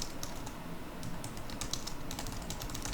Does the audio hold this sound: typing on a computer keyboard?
yes